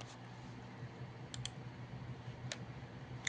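Soft, quick clicking of keys being typed on a laptop keyboard, close and faint, with a few sharper taps over a low steady hum.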